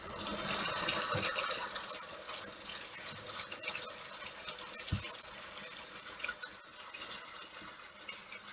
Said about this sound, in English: We will start by immersing our contaminated objects in a solution of 1 ounce of an enzymatic cleaner to 1 gallon of water